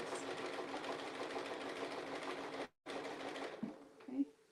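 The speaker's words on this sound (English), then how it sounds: "sew backwards first to close the line" A sewing machine stitches fabric back and forth in a steady, fast, close-up whir that stops briefly and then resumes, with a few soft handling clicks at the end.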